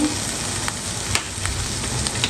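Tomatoes and green chillies sizzle in a hot pan, a steady loud frying hiss with a few sharp pops and crackles throughout, no voices.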